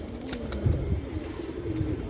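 Pigeons feeding on scattered grain at a pigeon house give low, soft cooing close by, a steady murmur with faint scratchy pecking and rustling, no voices.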